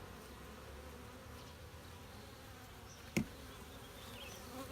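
Honeybees buzz softly throughout an opened, healthy beehive, a steady low insect drone with one brief sharp knock partway through and no talking.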